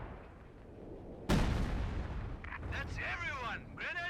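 A sudden artillery barrage in Company of Heroes 2 during a 2v2 match on the DarkRegion map: a booming blast followed by rumbling impacts and high whistling, with a commentator talking over it.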